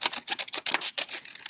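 Scissors cut a strip of yellow colored paper with a quick run of crisp, close snips and rustles, steady and moderately quiet, with no talking.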